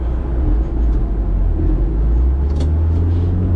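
Van powered by a Renault 5 GT Turbo engine and fitted with a big Airtec intercooler, running flat out on a dyno, a loud continuous deep roar and rumble with a faint high whine.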